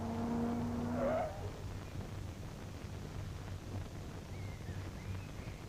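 A car pulls up and stops, a short brake squeal at the start followed by a low, quiet engine rumble idling in the background.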